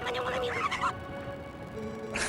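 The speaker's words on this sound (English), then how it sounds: "More chickens and weird noises." Chickens cluck and squawk in a Zelda: Twilight Princess game scene, a busy burst of game fowl noise over a steady background hum, fading briefly before another cry rises near the end.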